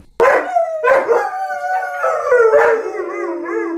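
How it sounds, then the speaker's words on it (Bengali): A dog howls up close, a long drawn-out wavering cry with a few short rises, loud and alone. "ময়না দেখো, কত সুন্দর একটা ডগি শুয়ে আছে"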